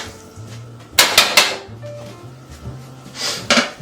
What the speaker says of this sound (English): So you gotta like really stir that shit